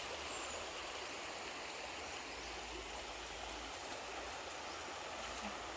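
A riverbank at night after heavy rain, the river rushing and roaring in a constant broadband wash, steady and fairly close, with no voices over it.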